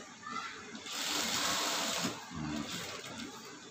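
Sewing machine stitching fabric with a steady rapid whirring run that speeds up and then slows, close and moderately loud, with no speech.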